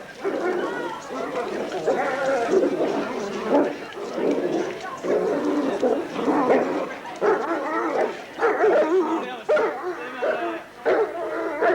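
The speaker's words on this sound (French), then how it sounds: "avec Bonnie et Zo, ils font partie des 6 bergers allemands de la brigade canine de Nancy." German shepherd police dogs of a canine brigade bark, yip and whimper repeatedly in overlapping bursts, mixed with people talking nearby.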